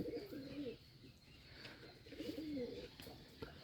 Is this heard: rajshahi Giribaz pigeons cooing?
yes